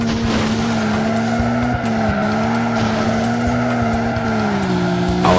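A taxi in a stunt driving video game skids with tires squealing in long, wavering whines over a steady engine drone, loud and continuous throughout.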